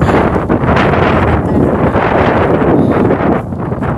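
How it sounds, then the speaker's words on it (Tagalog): Strong wind in England roars steadily against the microphone, a loud continuous rush with gusty buffeting throughout. "yang hangin kusog."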